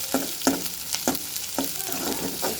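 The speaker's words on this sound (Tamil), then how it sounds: "இப்போ நம்ம ஒரு கரண்டி எடுத்து மிக்ஸ் பண்ணி வச்சுக்கலாம்." A ladle stirs sliced onions and four dried red chillies frying in a pan, giving a steady sizzle broken by several distinct scraping strokes about every half second.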